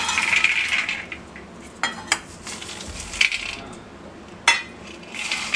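A spoon mixes a fried potato snack for a fasting-day meal on a plate, giving scattered metallic clinks and scrapes with a few sharper taps, close and alone.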